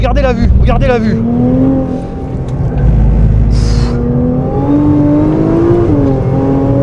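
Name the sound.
Nissan GT-R accelerating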